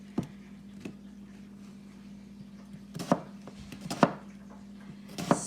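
Onions being cut on a board for onion soup, a few sharp separate knife chops spaced out over a low steady hum, close by with no talk.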